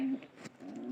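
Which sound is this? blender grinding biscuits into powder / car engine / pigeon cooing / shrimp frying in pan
pigeon cooing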